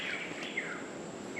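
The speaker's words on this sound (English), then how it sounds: "sound of birds chirping, making noise as we're walking through the jungle here." Birds chirp continuously in the jungle of American Samoa along the Mt. Alava trail, with soft, steady calls under a faint, even background hum and no speech.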